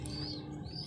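A bird chirps in a couple of quick thin calls over a steady low hum, faint and somewhat distant, within less than a second.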